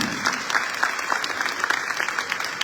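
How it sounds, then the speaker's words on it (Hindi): Audience clapping warmly after a Nautanki folk theatre performance by school students at a cultural festival, a steady dense patter of many hands sustained for a few seconds with no voices over it. "हृदय से तालियां बजा करके आशीर्वाद देते"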